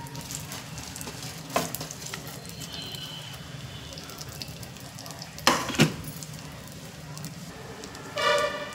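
Almonds, cashews and watermelon seeds dry-roasting in a pan, a soft continuous sizzle and rustle with a few sharp clinks of utensil against the pan, fairly quiet and steady.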